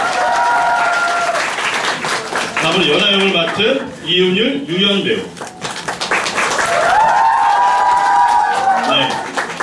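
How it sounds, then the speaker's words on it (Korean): Audience applause at a showcase for the musical 'The Man in the Hole', a steady crowd clapping that runs under an announcer's voice introducing cast members, with tonal musical notes rising through the middle. "박수 주세요"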